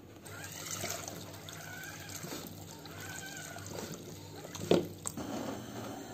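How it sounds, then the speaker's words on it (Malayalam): Water poured into a cooking pot holding watermelon rind with turmeric and salt for a buttermilk curry, a soft, faint trickle and splash with a brief louder clink near the end, heard close. "കുറച്ച് വെള്ളം ഒഴിച്ചിട്ട് ഇത് വേവിക്കാൻ വെക്കാം"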